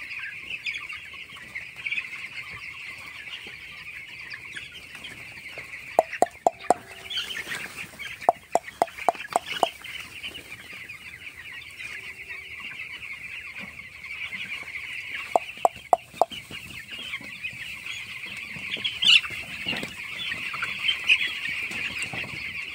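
Broiler chickens on a poultry farm in winter cluck in a steady, busy chorus, with sharp bursts of louder calls rising at intervals above the flock.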